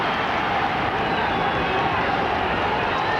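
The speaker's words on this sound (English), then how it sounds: "Come on City is the chant around the Victoria ground" Football crowd at Stoke City's Victoria Ground in 1994 roaring and chanting for the home side, a steady dense wall of voices filling the stands throughout.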